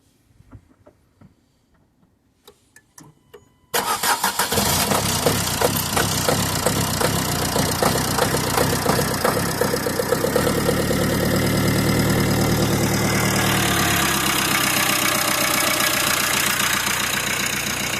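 A car engine cranks and catches after a few seconds of quiet clicks, then settles into a loud, steady idle that continues to the end.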